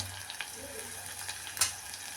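Curry leaves sizzling in hot oil for an anchovy curry, a faint, steady frying hiss with a few small crackles and one sharper pop.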